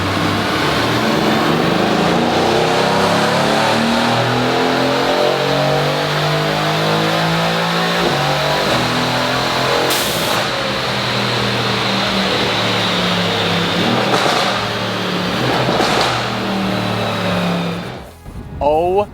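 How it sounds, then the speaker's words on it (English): Loud Mercedes-AMG GT R with aftermarket blow-off valves revving hard and continuously, a dense roaring engine note with rising and falling pitch sweeps, near and sustained throughout with a brief dip at the end. "Oh my God, does the AMG GTR sound savage. And he must have aftermarket blow-off valves."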